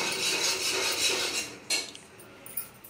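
Scraping and clinking of a utensil stirring egg curry paste in a cooking pan, a steady rasping for over a second and a half, then a few sharper metallic taps.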